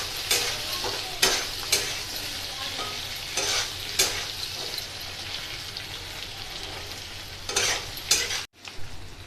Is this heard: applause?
no